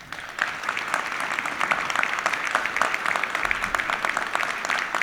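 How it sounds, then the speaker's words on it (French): Audience applause for the mayor and elected officials of Lunéville at a New Year's civic ceremony, many hands clapping in a dense, steady burst that holds at an even level throughout. "on peut applaudir Madame le maire et tous les élus qui sont présents ici de la ville de Lunéville"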